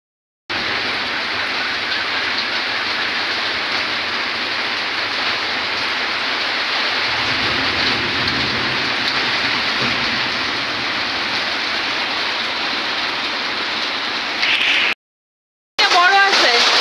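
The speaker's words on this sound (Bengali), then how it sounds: "তো বৃষ্টিটা কখন বা কমবে দেখা যাক।" Heavy rain with hailstones pours down in a dense, unbroken roar for about fifteen seconds. It cuts out briefly and then resumes just as loud.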